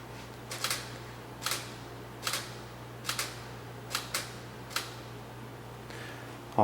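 Camera shutter fires eight times at steady intervals of under a second while photographing a condo desk area, each a crisp mechanical click over a faint constant hum, with no talking.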